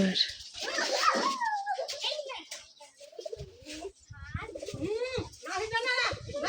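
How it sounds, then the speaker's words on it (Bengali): Soft pigeon cooing mixes with nearby chatter and a voice, the birds' low calls repeating intermittently under the talk. "তিনটা আছে এখন কবুতর"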